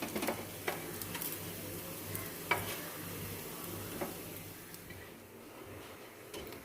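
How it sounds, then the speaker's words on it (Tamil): Vegetable cutlets toasting in a pan or on a dosa griddle give a steady low sizzle with a few sharp ticks and scrapes from turning, fairly quiet and with no talking. "2 பக்கமும் நம்ம திருப்பி போட்டு டோஸ்ட் பண்ணணும்."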